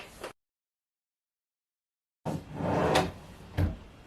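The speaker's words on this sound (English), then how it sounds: "I love that soft close." An IKEA Pax closet drawer with a soft-close runner slides shut in a quiet room: a brief knock, a pause of silence, then a smooth rolling glide ending in a soft thud.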